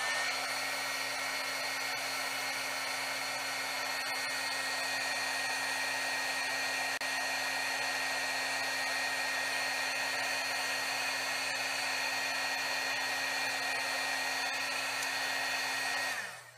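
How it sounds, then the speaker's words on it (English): A heat gun melts embossing powder with a constant whirring hum and a rush of air. It stays loud and steady, close by, for about sixteen seconds, then cuts off abruptly. "and now I'm going to heat it with my heat gun"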